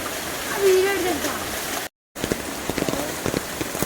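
Rain patters steadily, with someone talking and scattered drips, briefly cut by a moment of silence midway.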